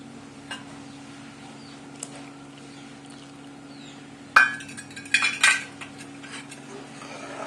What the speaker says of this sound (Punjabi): ਦੁੱਧ ਨੂੰ ਉਬਾਲ ਆ ਗਿਆ ਹੁਣ ਇਸ ਵਿੱਚ ਪਾਵਾਂਗੇ ਕਾਸਟਰਡ